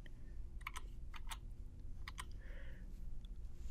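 Typing on a computer keyboard, with clusters of quick key clicks in bursts and short pauses between them, over a steady low hum.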